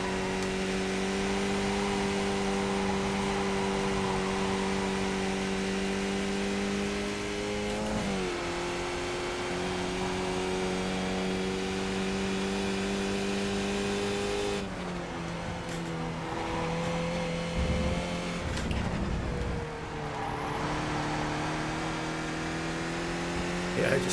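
A race car engine in a racing video game drones steadily around the track during cold-tyre qualifying, holding high revs with brief dips at shifts and braking points, loud and continuous, with a voice talking over it at times.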